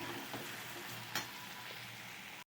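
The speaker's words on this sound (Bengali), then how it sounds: "ভালো করে মশলাটাকে কষিয়ে নেব।" Spice paste sizzles and fries in hot oil for a vegetable curry, a steady close crackle with a brief stir scrape, and then it cuts off abruptly.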